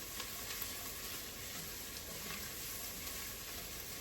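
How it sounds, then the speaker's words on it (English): Garlic sizzles in a very hot pan while being stirred for Aegean fasolada, a constant soft hiss that is close and even throughout, with no voices. "She's just going to stir that garlic all in there."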